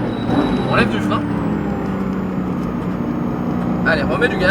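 Porsche 991 GT3 RS engine droning steadily from inside the car on the La Ferté circuit, a loud continuous roar with brief shifts in pitch, and a voice speaking over it.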